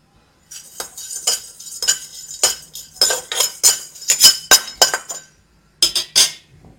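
Roasted black pepper, cinnamon and cumin tipped from a pan into a pot in a village kitchen: a run of bright clinking, rattling scrapes in uneven bursts, close and crisp, ending with a short pause and two last clatters.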